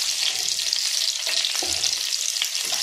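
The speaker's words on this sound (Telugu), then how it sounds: "ఒట్టిమిరపకాయలు తెల్లవారు వేసాను" Dried red chillies crackle and sizzle in hot tempering oil with mustard seeds, garlic and curry leaves, a steady close frying hiss with a few soft stirring scrapes.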